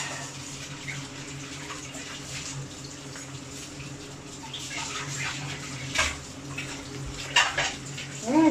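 Hot water runs and pours steadily in a kitchen while broccoli and sprouts adobo cooks, a low continuous wash with a few clinks and splashes near the end.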